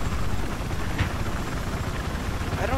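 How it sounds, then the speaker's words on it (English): A helicopter in Battlefield 4 on the Siege of Shanghai map, with a loud, steady rotor chop droning continuously throughout. "Did they know we have a chopper up here?"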